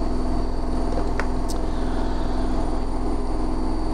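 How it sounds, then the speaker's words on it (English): A washing machine running a spin cycle in a home, a steady broadband whir with rhythmic low rumble and faint hum, continuous in the background, no talking. "The washing machine's suddenly gone onto a spin cycle."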